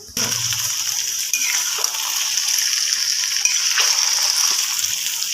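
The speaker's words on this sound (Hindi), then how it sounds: "ये भिंडियाँ मैं फ्राई कर रही हूँ।" Okra fries in hot oil with a loud, even, hissing sizzle that starts abruptly and holds steady, with faint stirring shifts along the way and no speech over it.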